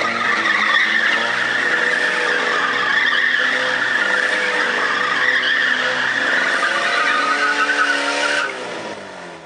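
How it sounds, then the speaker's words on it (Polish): A unique special show car with two engines, driven by two drivers at a monster truck show, skids with a sustained, loud tire squeal and engine roar for several seconds, then fades out at the end, with no talk. "Była też okazja, aby zobaczyć jedyny w Europie samochód specjalny z dwoma silnikami"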